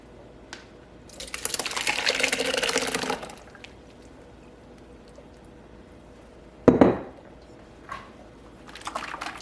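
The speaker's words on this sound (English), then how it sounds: "We're gonna strain out the butter fat with the buttermilk." Churned butter and buttermilk pour and splash through a colander into a big bowl in one long wet rush, followed by a sharp clatter and a few faint drips in a quiet kitchen.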